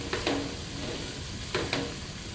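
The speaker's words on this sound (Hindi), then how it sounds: "हमें अच्छी तरह से इसे 5 से 6 मिनट तक हाई फ्लेम पर फ्राई करते रहना है।" Mutton and spices fry on high flame for yakhni pulao, with a soft, steady sizzle and two brief scraping stirs of the pan, fairly quiet and close, no talk.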